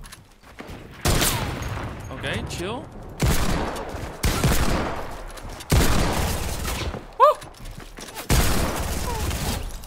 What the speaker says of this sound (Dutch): Die kerel wordt ook weer beschoten.